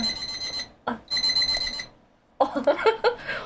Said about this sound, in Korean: 알람 맞춰놨네.